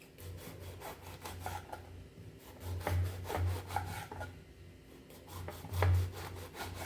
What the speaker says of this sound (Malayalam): അപ്പോൾ കട്ടിംഗ് ബോർഡ് വെച്ചിട്ട് നമുക്കിങ്ങനെ ഈ ഒരു ഷേപ്പിൽ കട്ട് ചെയ്യട്ടാ